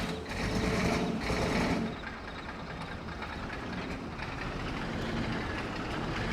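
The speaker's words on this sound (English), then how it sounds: "over the noise of this engine, I'll try to tell you what we're going to be doing" A farm vehicle engine runs steadily in a survival roleplay video game while being driven over to a farm, a loud broadband rumble that swells briefly early on and then holds constant with no voices.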